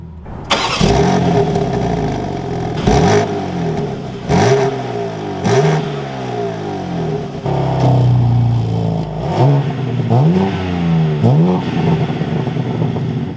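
A 2021 BMW M4 Competition fires up with a loud cranking burst, then revs hard repeatedly, each sharp rise in engine pitch falling back to a rumbling idle, close and dominating throughout.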